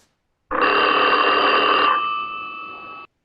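A telephone bell rings once in a sustained electric trill, loud and close, then fades to a steadier tone before cutting off.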